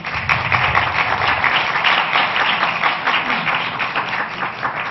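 Sustained applause from an audience at a city council hearing, a dense, even wash of many hands clapping that carries on steadily throughout with little other sound.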